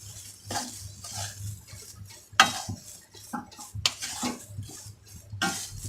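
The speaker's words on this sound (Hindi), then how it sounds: "और इसे मिक्स कर लेंगे अच्छी तरह।" A spoon stirs maida halwa with yellow zarda food colour in a pan, scraping and clinking against the metal in a steady, irregular rhythm up close, with a few sharper knocks and no talking.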